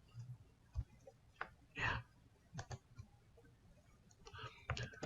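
Typing on a computer keyboard while entering a database query, a scattered run of sharp clicks and taps at close range with uneven gaps and no talk.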